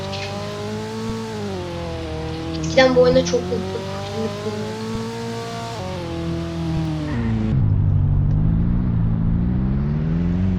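A car engine in Dealership Simulator revs and holds a steady droning pitch that rises and falls, loud and close, with someone talking over it before the tone drops into a rougher rumble.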